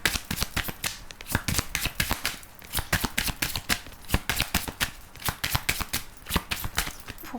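Tarot cards being shuffled and laid over one another, a steady run of close, crisp riffles and slaps with no talking.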